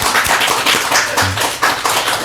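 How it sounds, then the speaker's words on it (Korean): A church congregation claps in encouragement for the choir after a hymn, the close, steady patter of many hands filling the room with no one speaking over it. "박수 부탁드리겠습니다."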